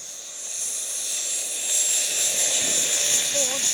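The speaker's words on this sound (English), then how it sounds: "Listen to that sound though. It sounds like a real turbine." Twin electric motors of a stock RC Twinstar II model airplane taking off, giving a steady high whine that climbs slightly in pitch, with a faint voice near the end.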